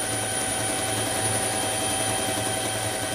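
A helicopter flies over the Peruvian jungle, its steady rotor and engine drone loud and continuous with a low pulsing throb, and no voices are heard.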